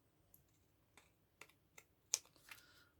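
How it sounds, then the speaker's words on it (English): Scissors trim the overhanging edges of cardstock in a series of faint, sparse snips and clicks, one sharper cut standing out near the end, in a quiet room. "I am just going to go round with my scissors using the cardstock as a guideline and just trim"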